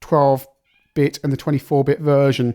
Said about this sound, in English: That's my cat whinging.